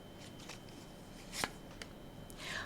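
Tarot cards riffled and flipped during a reading, soft papery shuffling with a sharp single snap of a card near the middle and a brief flurry at the end, quiet and close.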